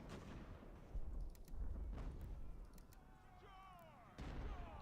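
Artillery in Ultimate General: American Revolution fires several distant booms and sharp reports in an irregular sequence during a battle, with a voice talking between them.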